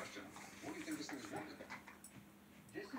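A dog pants and whimpers close by in soft, uneven bursts, with someone talking quietly over it.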